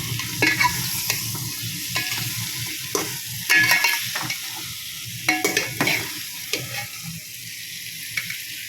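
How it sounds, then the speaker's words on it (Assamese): Mutton frying in a pan with a steady sizzle, while a spatula stirs and scrapes through the meat in repeated uneven strokes, with occasional clacks against the metal. "এতিয়া এইখিনি অকণমান লৰাই দিব লাগিব এনেকৈ"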